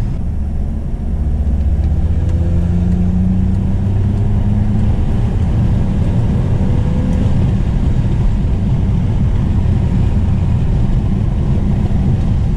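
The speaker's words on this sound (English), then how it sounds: "I do want some engine noise to come through" BMW 325i E46 engine droning steadily on a mountain pass road, a low continuous rumble with gentle rises in pitch and wind noise, loud and close from inside the car.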